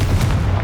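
A Confringo explosive spell bursts in the Hogwarts Legacy video game inside a witch's tomb, a single short, loud, booming blast with a heavy low rumble.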